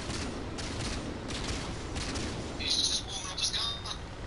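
Tank guns fire during a World of Tanks battle, a dense, rumbling wash of shooting at moderate distance, with brief bright electronic tones near the end and a voice talking over it.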